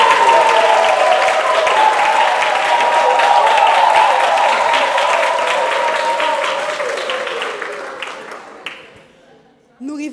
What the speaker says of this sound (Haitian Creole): je vous demande de l'applaudir encore une fois